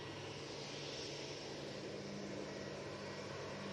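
A Ryanair airliner taxiing from T3 at Manchester Airport gives off a steady, faint engine drone with a constant hum and no talk.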